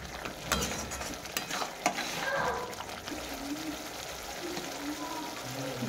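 Catla fish pieces being stirred and sautéed in a pan with salt and turmeric, a steady moderate sizzle with occasional scraping taps, a voice speaking briefly over the cooking.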